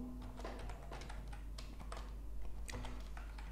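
Quiet clicking of typing on a computer keyboard, irregular bursts of light key taps close to the microphone over a low steady hum, with no voices.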